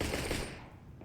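Gunfire in a CS:GO professional match (NaVi vs Astralis, ESL Pro League) comes as a loud, dense burst of rapid shots that fades over a second.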